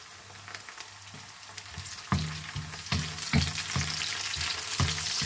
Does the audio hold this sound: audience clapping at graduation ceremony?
no